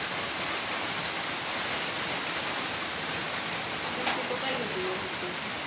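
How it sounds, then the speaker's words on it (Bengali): Light drizzling rain in a village, a steady dense hiss of falling drops close by, continuous and even, with no talk. "টিপ টিপ করে বৃষ্টি পড়তেছে"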